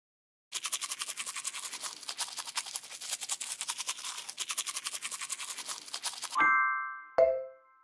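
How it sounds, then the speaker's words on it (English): Rapid rhythmic bristle scrubbing from a tooth brushing effect in the World of Peppa Pig video game runs steadily for about six seconds, then two bright chime tones ring out alone. "Help Peppa brush her teeth."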